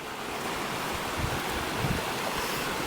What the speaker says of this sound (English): By the river.